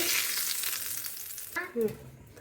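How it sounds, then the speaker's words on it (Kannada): A hissing sizzle from a ghee and cumin tempering fades gradually, followed by a couple of brief soft clinks near the end. "ಇವಾಗ ಇದಕ್ಕೆ ತುಪ್ಪ ಮತ್ತು ಜೀರಿಗೆ ಹಾಕಿರೋ ಒಗ್ಗರಣೆ ಹಾಕ್ತಾ ಇದ್ದೀನಿ"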